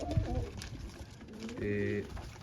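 Close-by pigeons give soft, throaty coos, a short burst early and a longer rolling coo later, over low background noise.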